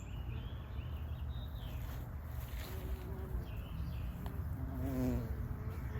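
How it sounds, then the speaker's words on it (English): Bees buzz around a perennial plant at a garden border, a faint continuous hum with occasional closer passes over low background noise. "this is the bees' favorite plant that we have in the yard"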